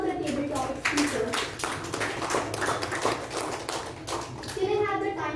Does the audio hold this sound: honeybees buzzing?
no